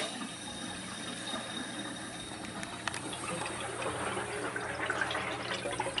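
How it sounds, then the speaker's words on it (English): CO2 bubbles up through beer in a keg during force carbonation, a faint, steady gurgling and fizzing with small pops, quiet and close. "you'll be able to hear this CO2 hit through and bubble up through the top"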